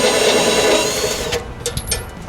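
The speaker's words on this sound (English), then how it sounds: "maybe we can use the pine tree drill here to ream that out" A pine tree drill bit grinds steadily into a corroded, rusted switch hole on an old backhoe, then breaks through into a few short scraping bursts and clicks.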